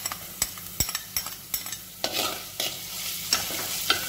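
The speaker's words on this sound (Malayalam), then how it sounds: "ഇഞ്ചിയും വെളുത്തുള്ളിയും നന്നായി മൂക്കട്ടെ" Ginger and garlic frying in oil while a spoon stirs and scrapes the pan, giving a steady close sizzle broken by sharp clacks and scraping strokes at an irregular pace.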